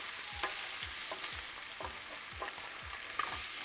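Bacon crisping in its own rendered fat, giving a steady close sizzle with a regular rhythm of soft scraping strokes roughly every half second, no voices.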